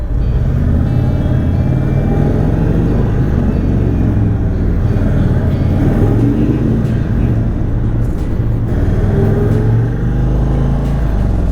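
Indian Chief Bobber Dark Horse motorcycle idling with its stock exhaust, a steady, close, low engine rumble that runs without a break and swells slightly now and then, with no voices over it.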